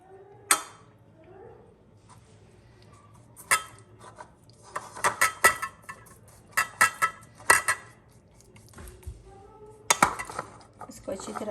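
Rice being mixed with spices and salt using utensils: scattered sharp clinks and scrapes of metal against a dish come in irregular bursts, some in quick clusters, over a quiet background with faint voices.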